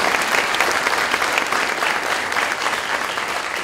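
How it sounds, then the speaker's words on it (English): Steady, dense applause from an audience at a city's 2017 State of the City address, loud and continuous throughout with no pauses and no talking over it. "please clap, help me out, come on."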